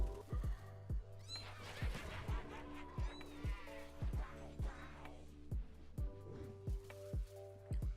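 Cat meowing inside a Roblox game, a string of short repeated meows over a steady rhythmic background of thumping game sounds, fairly close and clear with no talk over it.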